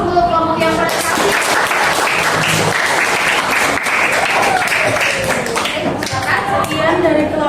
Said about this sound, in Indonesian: aplaus untuk kelompok yang prestasi